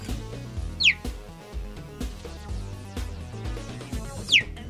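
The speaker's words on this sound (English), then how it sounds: "finding out that a cheetah sounds like this" A cheetah's call, two short, high, bird-like chirps about three and a half seconds apart, rising sharply in pitch and heard over a steady musical background.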